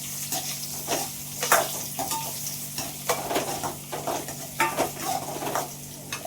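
Small onions frying in a pan with dried chillies, sizzling steadily while a spoon stirs and scrapes against the metal in irregular bursts, close and moderately loud, with no voices.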